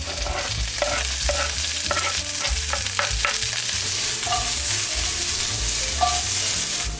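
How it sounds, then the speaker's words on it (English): Green peppers, onion and garlic fry in hot oil in a pan, a steady loud sizzle with intermittent stirring clatter and tapping throughout. "To a hot pan, we're gonna add some oil and our green peppers, our onion,"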